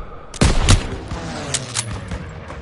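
Rapid bursts of gunfire in a Call of Duty WWII street battle, a loud opening volley followed by repeated sharp shots and rattling fire at varying distances, with no talk in between.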